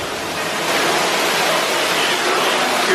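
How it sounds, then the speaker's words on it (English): A theme park queue line waterfall at Knott's Berry Farm pours with a steady, loud, broadband rush of falling water, continuous and even throughout with no talk over it. "Queue line waterfall."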